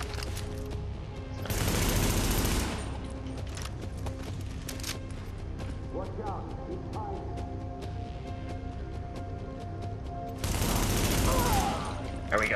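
Bursts of gunfire crackle through a firefight in Tom Clancy's The Division, with two loud sustained volleys near the start and end and scattered sharp single shots between them.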